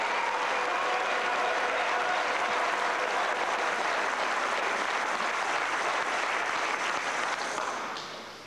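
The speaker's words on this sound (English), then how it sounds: "The capacity crowd is absolutely alive" A capacity crowd at a Champions League table tennis match applauds loudly and continuously, a dense sustained roar of clapping that fades slightly at the very end.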